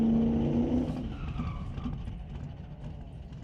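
Drag race cars, a 1998 Acura Integra and a red Kia, roar at Mission Raceway Park with loud sustained engine noise and a brief tire squeal early, the sound fading slightly as they pull away.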